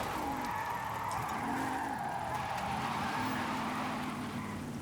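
Car engine held high in the revs in Forza Horizon 5, a loud steady drone with rising and falling pitch sweeps and tyre noise, continuous and close with no talk.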